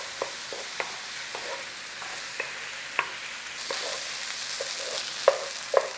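Rice toasts in a hot pan for chicken risotto, a soft steady sizzle broken by scattered spoon clicks and scrapes as it is stirred, close and quiet with no talking.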